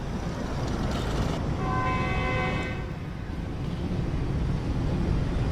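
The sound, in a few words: Khyber Mail train horn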